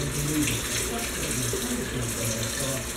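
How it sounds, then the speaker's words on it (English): Cold tap water runs steadily over just-cooked noodles in a kitchen sink, a constant close rushing and splashing with no pauses. "rinse it out with cold water."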